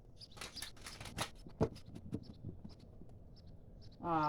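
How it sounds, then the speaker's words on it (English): Tarot cards are shuffled by hand in a quiet room: soft papery flicks and light taps come in a quick cluster, then scattered clicks, ending with a louder riffle burst. "I'm going to go ahead and just give a quick shuffle on camera"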